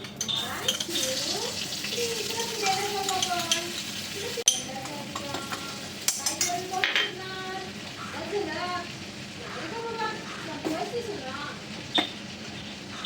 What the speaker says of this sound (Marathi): आता यामध्ये थोडासा बटर घालू